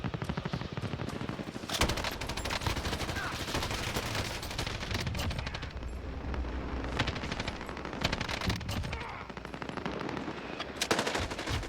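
Rapid automatic gunfire from a Call of Duty: Warzone match, loud and continuous bursts of machine-gun fire with scattered single shots throughout, dense and close.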